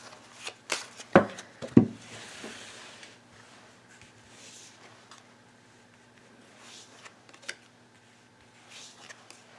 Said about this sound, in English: let me draw 7 cards below